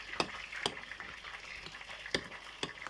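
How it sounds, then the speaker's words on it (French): Fish frying in oil for friture de poisson gives a faint, quiet sizzle with occasional sharp clicks and pops spaced irregularly, no voices. "On va l'accompagner avec notre friture de poisson."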